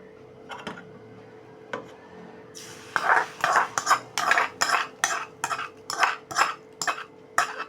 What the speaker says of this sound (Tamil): அதை எடுத்து செஞ்சு வச்சு தயிர் சாதத்தில் கொட்டிடலாம்